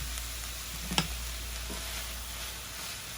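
Food sizzling in a pan as it cooks down for a beefy cheesy spinach casserole, a steady close hiss over a low hum, broken by one sharp clink of a utensil against the pan.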